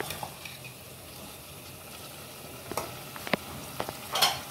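Shrimp and potatoes are poured into hot oil, with a low, quiet sizzle, a few sharp clinks, and a brief louder hiss near the end.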